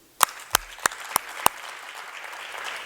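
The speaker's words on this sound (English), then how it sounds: "Can we give them a round of applause?" An audience applauds at an annual awards event. A few sharp, evenly spaced claps ring out first, then a wash of broader clapping builds and holds at moderate volume.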